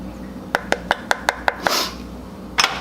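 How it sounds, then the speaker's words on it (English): Corn fritter batter with drained jalapenos, butter, cheddar, salt and pepper gets stirred in a bowl, a quick run of about seven sharp taps followed by a scraping swish and one more knock. "Stir that up nice and good"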